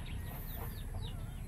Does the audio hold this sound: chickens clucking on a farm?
yes